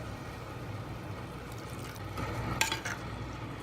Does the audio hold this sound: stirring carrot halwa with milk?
yes